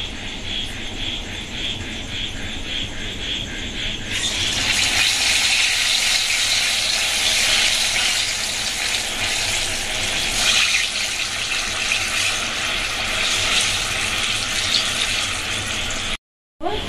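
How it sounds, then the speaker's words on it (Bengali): Palm fruit fritters deep-frying in refined white oil, a steady broad hiss and bubbling that swells after a quieter start and carries on loudly before cutting out briefly at the end. "তাল ফুলুরিগুলো আমি সাদা তেলে করছি"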